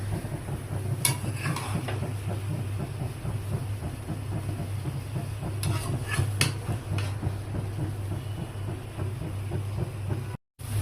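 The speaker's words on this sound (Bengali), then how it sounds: "আমি খুব সুন্দর করে এগুলোকে মিক্স করে দিব, সরষে বাটাটাও খুব সুন্দর করে মিক্স করে দিব।" Mango pickle being stirred with mustard paste in plenty of oil in a pot, a close, steady scraping and soft sizzling, with a low hum beneath and a few sharp utensil clicks, no talking.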